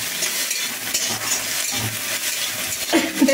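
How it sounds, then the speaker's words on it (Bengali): Chopped onions frying in oil in a pan, a continuous busy sizzle with stirring scrapes and a few utensil clinks toward the end, no voices. "এইবার আমি এর মধ্যে দিয়ে দিচ্ছি যে পেঁয়াজ কুচানো আছে"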